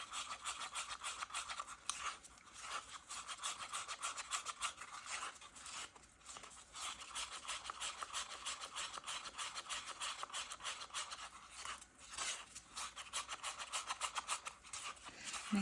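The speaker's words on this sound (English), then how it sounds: "Slowly start stirring it so it doesn't come out of the cup." Epoxy resin mixed with powdered pigment being stirred in a cup, a steady close scraping and rubbing that continues without pause and with no talking.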